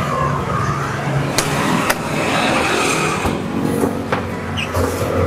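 A car drives along with a steady rumbling road and engine noise, a few sharp clicks and knocks breaking through now and then, and no talk.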